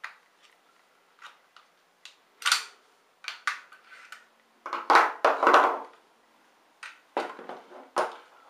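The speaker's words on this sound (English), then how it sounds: "Let's look at just stripping the weapon down." A WE airsoft rifle is stripped down by hand, giving sharp mechanical clicks, snaps and metallic clacks in scattered bursts, some single and some clustered, close by with quiet pauses between.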